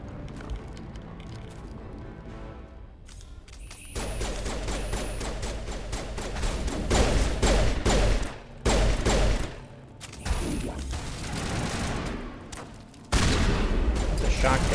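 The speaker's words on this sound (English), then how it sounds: "It's a shotgun." Shotgun blasts in the video game Mass Effect, a few loud booming shots breaking up a noisy stretch of combat sound, with a voice speaking briefly.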